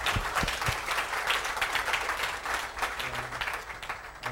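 Conference audience applauds the panelists, a room of steady clapping with some sharper individual claps standing out, moderately distant and continuous throughout.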